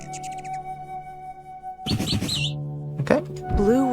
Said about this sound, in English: Blue-winged warbler